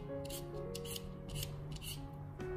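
A handheld vegetable peeler strips the skin from a yellow-fleshed potato in about six quick, close scraping strokes over faint background hum.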